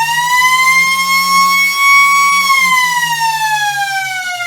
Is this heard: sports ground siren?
yes